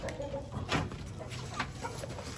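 Chickens and white chicks cluck softly over a steady noisy background, with a few brief calls rising now and then.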